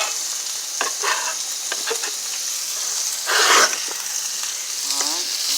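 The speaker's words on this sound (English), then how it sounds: "Okay, so these are going to saute a few minutes" Chopped vegetables for a meatball sauce sizzle and hiss in a hot oiled pan, stirred now and then with scraping sounds, close and steady, with a brief louder burst midway.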